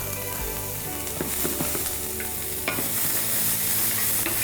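Red onion with ginger, garlic and salt sizzles steadily in a hot pan while a spoon stirs and scrapes through it in quick, close knocks.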